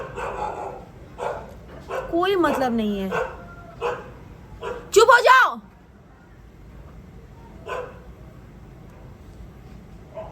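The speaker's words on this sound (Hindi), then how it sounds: "ये कुत्ते बेवजह चिल्ला रहे हैं" Dogs bark and yip in scattered bursts, with one louder close flurry midway, while someone speaks over them.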